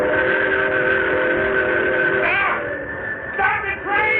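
Steam train whistle in an old-time radio drama, a sustained tonal blast over rumbling rail noise, followed by shorter wavering whistle bursts, fairly close and alone without voices.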